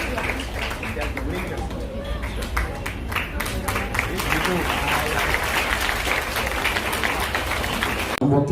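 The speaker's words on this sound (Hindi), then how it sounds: "जोरदार तालियां।" Loud applause from a crowd at a public event welcoming a national-level MMA champion, sustained dense clapping with cheering and chatter mixed in, sounding from all around.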